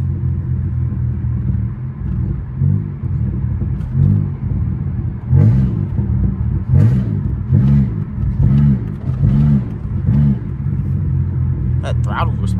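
A Pontiac Grand Prix GT with the 3.8 engine pulls hard, a loud, steady engine drone with rhythmic pulsing surges as it accelerates, close and continuous, while people talk over it.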